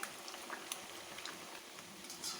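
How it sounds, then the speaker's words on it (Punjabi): Soya chaap fries in a pan of oil all in one batch, giving a steady, moderately loud bubbling sizzle with small crackles and pops throughout and no talking. "ਸਾਰੀਆਂ ਚੰਪਾ ਨੂੰ ਅਸੀਂ ਇੱਕੋ ਵਾਰੀ ਫਰਾਈ ਕਰ ਲਾਂਗੇ"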